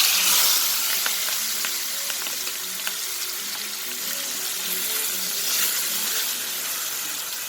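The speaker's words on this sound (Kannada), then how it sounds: "ಓಕೆ, ಈಗ ಫ್ರೈ ಆಗಕ್ಕೆ ಬಿಡೋಣ" Chicken fries in a pan of oil with curry leaves, a steady close hiss and crackle of sizzling with occasional soft stirring knocks.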